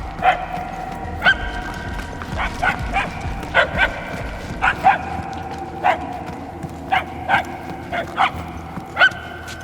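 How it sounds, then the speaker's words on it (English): A dog barks repeatedly in Marvel's Guardians of the Galaxy video game, sharp yips spaced through a steady ambient game background at moderate distance. "The barking is getting fainter."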